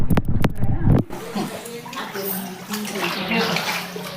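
Floodwater that has entered a house kitchen after heavy rain sloshes and gurgles steadily, following a brief burst of rough, close sounds at the start, with a voice speaking over it.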